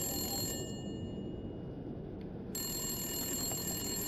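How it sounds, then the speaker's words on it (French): A telephone ringing inside The Long Dark video game, a steady electronic ring over a dense background of game ambience that drops briefly before the ring resumes. "mais c'est le téléphone"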